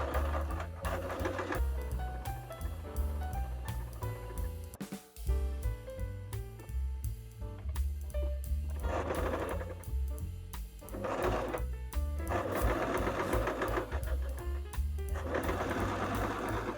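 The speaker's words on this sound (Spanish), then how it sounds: "empezaremos haciendo la puntada en el derecho de la tela, apoyando el borde del tejido en la pieza esta del prensatelas" A domestic sewing machine runs a zigzag stitch along a fabric edge, its steady mechanical whirring and rhythmic needle clatter continuing with short pauses and changes in speed, close and fairly loud.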